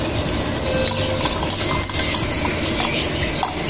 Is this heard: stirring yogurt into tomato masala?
yes